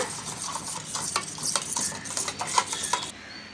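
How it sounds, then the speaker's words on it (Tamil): A spoon stirs tomato puree with salt, asafoetida and curd in a pot, giving repeated scraping and clinking strokes at a steady rhythm, close and moderately loud, with no talking. "தக்காளி பியூரி உப்பு பெருங்காயம் அப்புறமா தயிர் எல்லாமே நல்லா இந்த மாதிரி சேர்கிற மாதிரி கலந்து விட்டுக்கோங்க"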